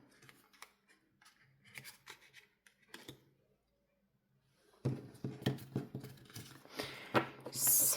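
Tarot cards are gathered and shuffled together, with soft, sporadic rustles and taps at first, then a denser run of close, papery slides and flicks.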